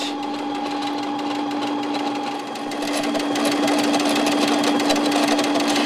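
A sewing machine runs steadily through a straight dressmaking seam, a loud, even mechanical whir with a constant motor hum that picks up slightly partway through.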